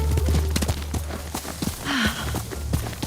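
Horse hooves clip-clop in a quick, steady rhythm in Ghost of Tsushima, with a brief whinny midway and some game ambience underneath.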